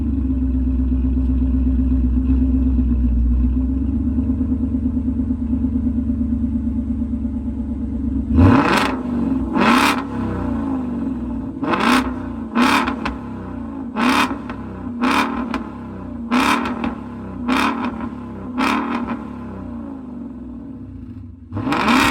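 A Ford 5.0 V8 with an X-pipe and MBRP exhaust. It first idles with a deep, steady rumble, then gives about ten sharp, loud throttle blips in a quick, uneven rhythm, each rising and dropping back close to the mic.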